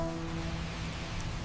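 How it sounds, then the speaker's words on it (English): Steady rain falls at a Chicago bus station, a dense, continuous hiss of drops with no pauses or voices. "Chicago rain slicks the bus station as Maya, a tired waitress"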